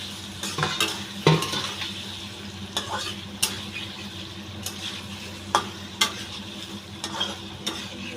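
Paneer sizzling gently in butter, with repeated clinks and scrapes of a spatula against the pan at an irregular rhythm.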